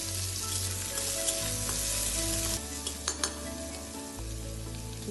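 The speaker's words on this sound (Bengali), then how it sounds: "এর মধ্যে আমরা দিয়ে দিলাম কুচিয়ে রাখা পেঁয়াজ" Chopped onion sizzles in hot oil with whole cumin and dried chilli for a fish roe curry, a steady close crackle with a few clinks of a stirring utensil against the pan, and no talk.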